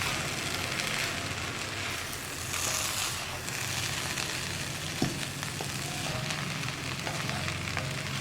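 Vanpayar thoran, a cowpea stir-fry, being stirred in a pan over a flame: a steady close sizzle and crackle runs throughout, with occasional soft scraping stir strokes and no talking.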